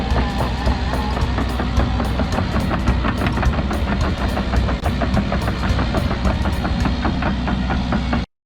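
A tractor engine idles steadily at close range, a continuous low rumble with a rapid knocking pulse that holds even throughout, then cuts off abruptly at the end.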